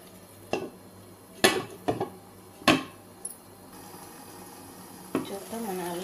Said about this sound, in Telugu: ఈ మసాలా కూడా కొంచెం పచ్చి వాసన పోయేదాకా ఉడికించుకుందాం